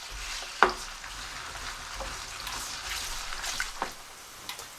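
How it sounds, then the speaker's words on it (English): Onions sizzle and crackle in a hot pan on medium heat, a soft steady frying hiss with occasional clinks and stirring scrapes nearby. "I've been frying these onions."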